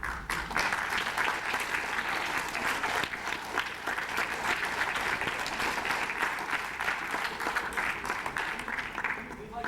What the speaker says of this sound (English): We'd like to ask the audience to please hold your applause until the end of the debate.